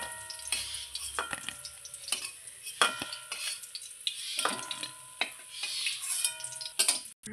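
Fish roe fritters frying in hot oil in a pan, a steady soft sizzle broken by repeated sharp clinks and scrapes of a utensil against the pan, close and moderately quiet.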